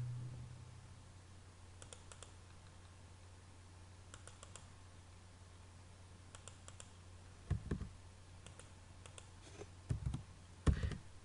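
Computer keyboard keys tapped while entering values in AutoCAD, with light clicks through the clip and a few firmer key presses like Enter near the end, over a low steady hum.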